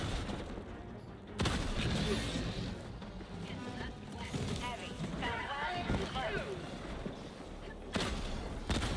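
Autocannon in the sci-fi shooter Helldivers 2 fires heavy booming shots during a fight, some loud and sharp, mixed with explosions, gameplay clatter and a player talking over the top.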